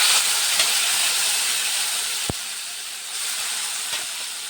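Ash gourd pieces dropped into hot oil with cumin, a steady broad sizzle close by with one brief clatter, no talking.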